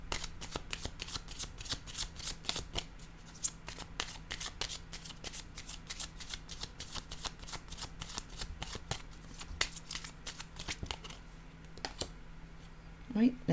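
Tarot cards shuffled and drawn for a Scorpio love reading, giving dense, rapid riffling flutters with sharp card snaps recurring steadily throughout, close and fairly quiet over a faint steady hum.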